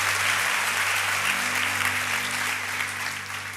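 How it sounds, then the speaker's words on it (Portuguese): A church congregation applauds during an evening service, dense sustained clapping from a large crowd filling the space and slowly easing off toward the end. "Aplauda Jesus o melhor que você puder nessa noite."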